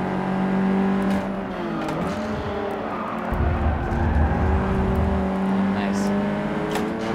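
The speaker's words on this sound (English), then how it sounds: "Something that both of us would like a little more of is engine sound." Car engine in Forza Motorsport 6 heard from inside the cockpit, a droning hum that rises and falls through gear changes, moderately quiet beneath people talking.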